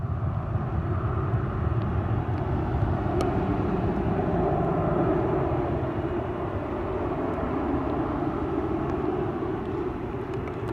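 Airliner landing on a wet runway at Montego Bay, Jamaica: a loud, continuous jet roar with broad spray-like hiss, sustained and steady throughout.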